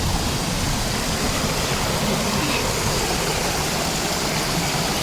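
Shallow river water rushing steadily over rocks, a close, continuous broadband wash with no pauses.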